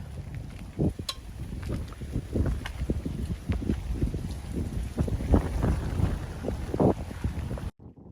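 Strong wind buffeting the microphone at a beach in New Zealand, low rumbling gusts that keep surging unevenly throughout, with no voices.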